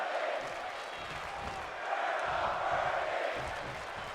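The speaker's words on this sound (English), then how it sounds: "I'm trying to make out what the crowd's singing" Wrestling arena crowd chanting and singing together in a continuous loud roar, swelling slightly midway, with no pauses across the whole stretch.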